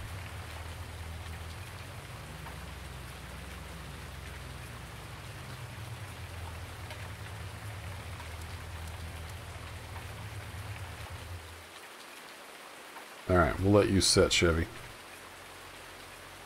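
Steady rain falls in Farming Simulator 19, a constant soft hiss over a low engine hum, cut off near the end when someone briefly speaks.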